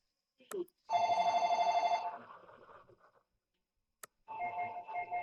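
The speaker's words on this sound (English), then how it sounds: "So you can choose the particular ringtone as per your wish." An electronic ringtone from a Grandstream GRP260X IP phone plays in short melodic bursts, with brief clicks between them; fairly clear and close.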